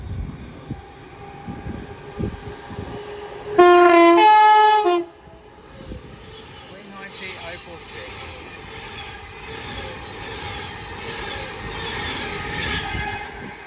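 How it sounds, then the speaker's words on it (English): A train on the West Coast Main Line at Watford Junction sounds a loud two-tone horn for about a second amid rumbling rail noise and clatter, with someone talking quietly in the background. "as down in the far distance will be a terminating line service from London Euston."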